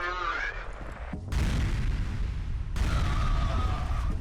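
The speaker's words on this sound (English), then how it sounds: "Grenades! Slow motion grenade." Grenade blasts in the shooter game F.E.A.R. boom loudly and broadly, one large burst followed by a second heavy explosion with rumbling debris and game effects.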